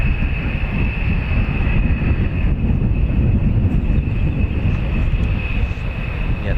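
A USAF B-1 Lancer or B-52 Stratofortress bomber taxiing at RAF Fairford, its jet engines giving a steady, loud, continuous roar with a thin high whine running throughout.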